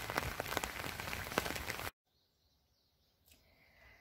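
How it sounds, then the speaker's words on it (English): Rain falling on a pond, a dense patter of drops that cuts off abruptly to near silence, leaving only faint sounds and a soft later rise. "So the rain is filling up the pond."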